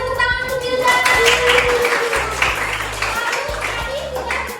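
Children in an elementary school classroom clap for a student in a short, rhythmic burst of hand claps, with a teacher's voice heard over them.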